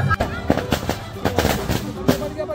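Firecrackers burst during Chhath festival celebrations, several sharp pops scattered through the clip over steady conversation and crowd noise.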